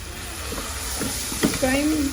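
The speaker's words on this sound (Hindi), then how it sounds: "अब इनको अच्छी तरह मसालों के साथ गोश्त को थोड़ा सा मिक्स करेंगे" Mutton with ginger, garlic and spices being stirred in a pot, a soft scraping stir over a steady frying sizzle, with a few brief clinks close by and faint voices beneath.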